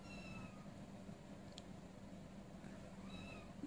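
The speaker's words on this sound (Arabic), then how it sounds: "القطة بتنونة" A cat meows faintly a couple of times in the distance, short rising calls over a quiet, steady background hiss.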